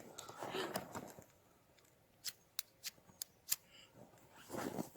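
Ferro rod struck with a striker in extreme winter cold to make sparks for fire: a few sharp, scraping strikes spaced apart, close and faint, with soft rustling and movement noise around them.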